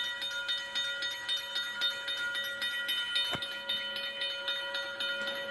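A train sounding its horn at a railway crossing, a sustained tonal blare with steady hiss underneath, broken by one sharp transient partway through; no talking.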